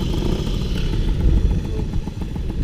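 Small moped engine running on a Breton road trip among Peugeot mopeds, a continuous buzzing, rattling drone that stays loud and close throughout with a slight rise and fall and no talking.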